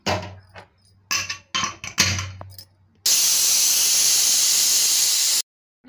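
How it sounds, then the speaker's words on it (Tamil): Pressure cooker on the stove cooking green chicken gravy: a few clanking knocks of the lid being set, then a loud, steady hissing whistle of escaping steam for about two seconds before it cuts off abruptly. "அப்படியே குக்கர் மூடி போட்டு 2 சவுண்டு விடலாங்க."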